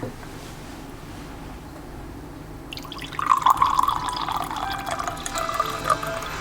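Tap water pouring into a glass, starting after a quiet stretch and then splashing and gurgling steadily near at hand with bright watery trickling.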